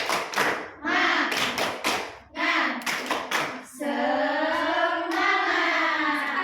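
A primary-school class performs a rhythmic cheer clap, tepuk semangat, during a microteaching lesson: bursts of quick, patterned hand claps alternate with children's voices chanting along, ending in a longer sung shout.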